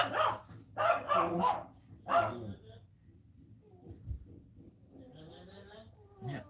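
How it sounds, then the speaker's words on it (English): A dog barks several times in a quick cluster close by, a couple of sharp woofs followed by a pause, then quieter whimpering and a short bark near the end, with no other voices. "Yep, barking got him going."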